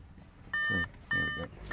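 Electronic chimes from the dashboard computer controls of an Audi S4 3.0 TFSI supercharged quattro automatic as they switch on: two short, clear tonal beeps about half a second apart, close and distinct, with no speech.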